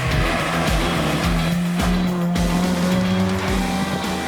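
Loud track car with a raucous engine revving and tires squealing through hard cornering, close and continuous with repeated throttle bursts, no talking.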